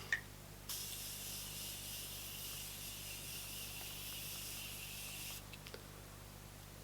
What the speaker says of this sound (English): I'm going to go into this setting spray